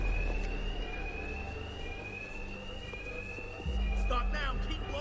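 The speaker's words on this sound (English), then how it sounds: "Two-Face's thugs won't hear me over the alarm." A repeating electronic alarm rings steadily inside a building in Batman Arkham Knight, loud and continuous over a low rumbling background, with the level swelling near the end.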